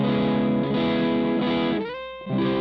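Electric guitar fitted with a 1000 picofarad treble bleed capacitor, playing sustained distorted chords with a brief dip and swell near the end, loud and close, no talking.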